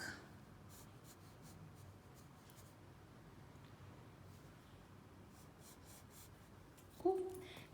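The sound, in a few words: pencil sketching a tree outline on paper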